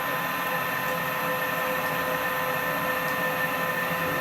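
A CNC machine driven by Mach3 control software traverses along its X axis, giving a steady, even motor whine with a broad mechanical hiss that holds level and close throughout, with no voices.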